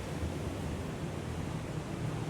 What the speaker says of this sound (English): You can still hear the ocean.